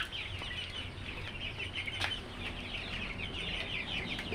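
Chickens in a small indoor poultry room holding about a hundred birds cluck steadily and overlap, with an occasional wing flap, all fairly faint with no talking.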